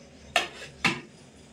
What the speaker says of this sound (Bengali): এখন কিন্তু বিস্কুটের প্লেটটা এইভাবে দিয়ে দেবো